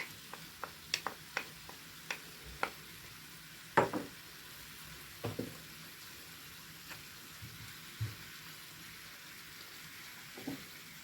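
Chopped onion sizzles softly in a meat tagine with a faint, low frying hiss. A dozen or so scattered ticks and clinks from stirring with a utensil sit on top.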